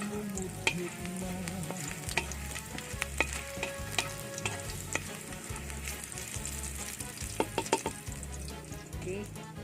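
Sea shells (dalo-dalo) fry and sizzle in a hot pan toward golden brown, a steady close crackle broken by scraping stirs, with no voices.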